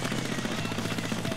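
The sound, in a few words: airstrike launched in Splatoon video game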